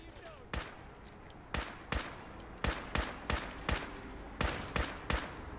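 Gunfire from a gun in Fallout 4, nine or ten sharp single shots spaced irregularly over a few seconds, loud and distinct against a low background hum.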